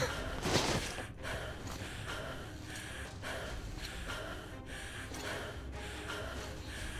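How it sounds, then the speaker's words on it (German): The player character in Metro Last Light Redux breathes heavily, with a sharp gasp at the start followed by repeated ragged, labored breaths at a steady rhythm, close and moderately loud. "Wieso atmen wir so wie so ein kleines Kind"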